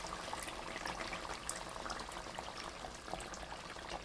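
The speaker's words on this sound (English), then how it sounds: "Add the 1 cup of water." A cup of water is poured into simmering chicken korma sauce in a pan, a soft, steady splashing wash of liquid that runs evenly throughout at a low level.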